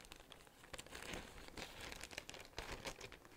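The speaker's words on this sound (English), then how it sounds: "Next bag, we're gonna open this one together." A plastic bag of cheap Temu guitar accessories is opened close up, with continuous crinkling and crumpling and sharper rustles and tearing bursts, and no talk.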